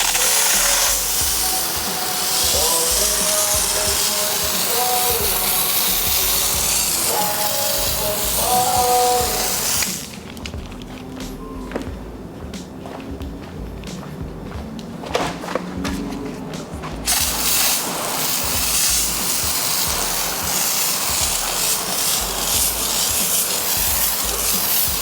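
A loud, steady hiss of an IK pump sprayer used for car detailing, cutting off briefly in the middle before the spray resumes, with faint mechanical clicks during the pause.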